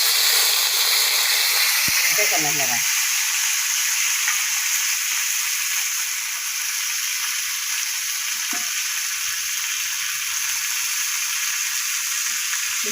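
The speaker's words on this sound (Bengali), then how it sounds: "শুকনো লঙ্কা ভাজা হয়ে গেছে। এই যে ডালিম পাতা দিলাম, ডালিম পাতা" Pomegranate leaves frying in oil with dried chillies, a loud steady hiss-like sizzle close by with a few stirring scrapes and a short spoken remark early on.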